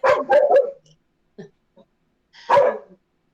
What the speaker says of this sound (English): Sorry, dogs go mad. Postman.